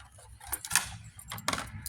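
Keys jangle in a few short metallic bursts over a low rumbling background, fairly close and moderately loud.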